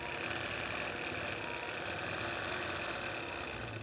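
A sewing machine stitching in the ditch on a calendar quilt runs steadily throughout, giving a continuous, fairly loud mechanical hum with no speech.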